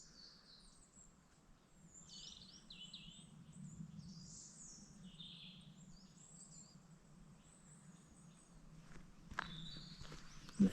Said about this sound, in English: I just want to stand here for a minute and see how well it picks up this bird sound.